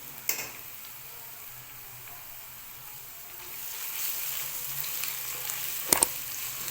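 Steady sizzling of garlic ginger paste frying in hot oil, a soft continuous hiss with a couple of faint clinks, no talking.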